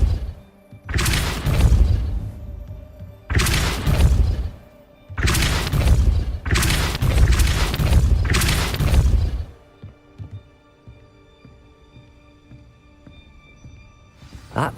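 The Depulso spell in Hogwarts Legacy goes off in five loud, booming, whooshing bursts with short gaps between them, followed by a quieter stretch of low ambient rumble.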